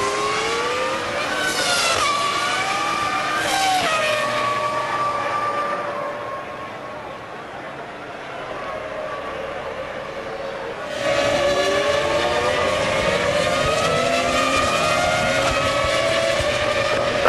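Formula 1 cars from the 2000 Suzuka race braking hard into the slow Casino Triangle chicane, with loud, high engine whines dropping in pitch on downshifts and then climbing again as they accelerate away, several cars in close succession.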